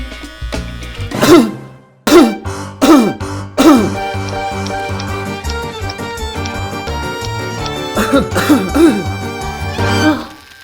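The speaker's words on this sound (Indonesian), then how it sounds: "Batuk Pak Haji?" A man coughs and clears his throat in several harsh bursts, up close and loud, with a sustained musical backdrop continuing underneath.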